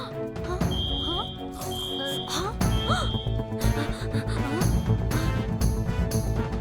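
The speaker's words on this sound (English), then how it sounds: "At the road worker's office, an alarm rings" An alarm in a cartoon road workers' office sounds in repeated high beeping tones over busy animated music and effects, loud and close, with voices talking.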